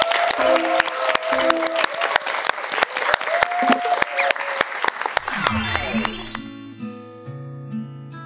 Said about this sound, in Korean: 큰 박수로 모시죠